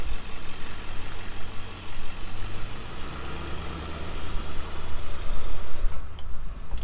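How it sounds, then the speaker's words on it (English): Vehicle engines idle in morning traffic at a boat ramp, a steady low rumble that runs without a break and rises a little near the end. "let's start the morning off right with some traffic at the boat ramp"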